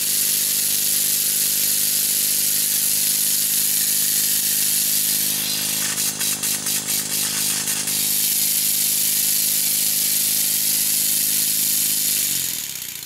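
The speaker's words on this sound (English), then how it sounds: "When I let go of it, the engine runs at warp speed." A small Stuart model steam engine runs fast with a steady hissing whir and a mechanical hum, then winds down near the end.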